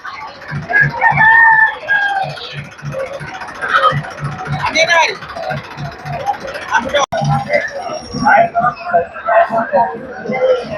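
Chickens cluck repeatedly and a rooster crows amid a busy farmyard, with people talking throughout and a sharp click partway through.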